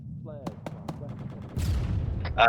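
Explosions and RPG fire during an airborne infantry training exercise, heard as several sharp distant reports followed by a louder sustained blast roar, with voices talking over the gunfire.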